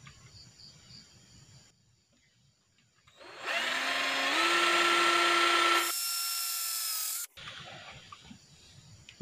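A sharpened nail used as a drill bit bores a hole while repairing a large fish shocker, producing a loud, steady whine for about four seconds that rises in pitch partway through and then cuts off abruptly, with quiet background before and after.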